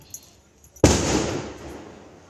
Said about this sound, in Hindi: अभी तक देखो मेरे दीपावली होने के बावजूद भी पटाखे जग रहे हैं, आपने सुना होगा।